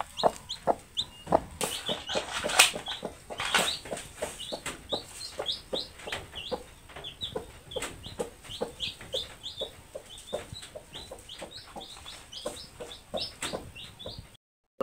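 A hen on a rural off-grid farm in Maasai land clucking softly and steadily among newly hatched chicks, whose rapid high peeping fills the background throughout.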